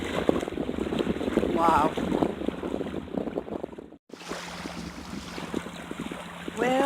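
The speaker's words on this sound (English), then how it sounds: "as you can tell, the wind is blowing" Strong wind buffets the microphone on a beach during a camping trip, a loud gusty rumble with surf washing underneath and a brief lull midway; a voice calls out once.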